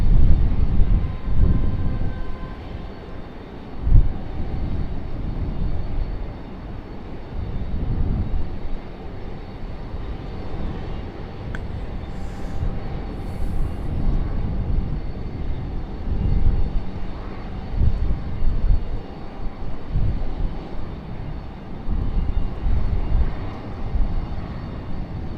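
A Republic Airways airliner at Raleigh-Durham International Airport gives off a loud, steady jet engine rumble that swells and eases over about twenty-five seconds, heard from nearby on the airfield with no voices.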